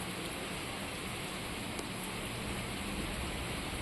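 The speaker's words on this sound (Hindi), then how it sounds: "अलवर की टपुकड़ा से, जहां पर झमाझम बारिश और यहाँ भी गर्मी से अब राहत मिली है" Heavy monsoon rain pouring down steadily in Alwar, Rajasthan, a dense, even hiss of downpour that holds at constant loudness throughout with no voices.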